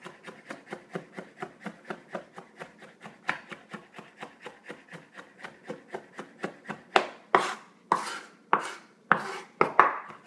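A knife chops garlic on a wooden cutting board in a steady stream of quick, close, crisp taps, which turn into heavier, scraping strokes toward the end. No one speaks.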